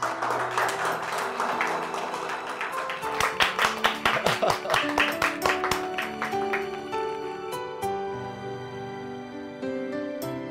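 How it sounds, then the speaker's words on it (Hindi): Hands clap in a rhythmic burst for a young girl named Aashi being honored at a ceremony, brisk and moderately close, rising in the middle and fading under music. "मैं चाहूंगा जोरदार तालियां विभाग की ओर से और आप सभी की ओर से बजनी चाहिए हमारी आशी के लिए"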